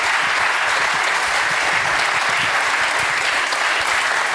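Loud, continuous clapping from a television studio audience after an interview with minister Sigrid Kaag, a thick unbroken wall of applause holding steady for several seconds, alone without voices.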